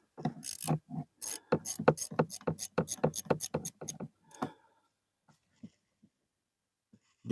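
A ratchet wrench loosening a bolt on a Ryobi 2300 generator, close, crisp rapid clicking in quick strokes for about four seconds, then a few isolated faint clicks and near silence.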